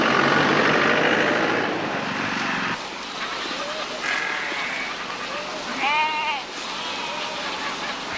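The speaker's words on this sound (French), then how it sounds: "un troupeau de moutons et de chèvres" Several sheep and goats bleat in short wavering calls over a steady vehicle engine rumble in Africa, with a louder bleat standing out near the end.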